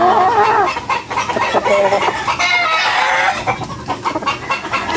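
A large hen clucks loudly and close by, with rooster crowing and other poultry calls mixed in across a busy farmyard.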